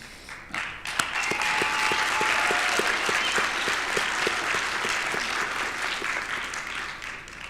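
An audience at a winter commencement STEM ceremony bursts into sustained applause for graduates and their families, a full, steady roar of many hands with a few crisp, rhythmic claps near the front.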